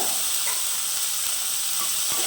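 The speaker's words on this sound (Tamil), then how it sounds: "வெங்காயம், தக்காளி, பூண்டு எல்லாமே கொஞ்சம் நல்லா வதங்கட்டும்." Onion, tomato and garlic sauté in a pan for sambar, giving an even, close hiss and sizzle with a couple of faint clicks and no talking.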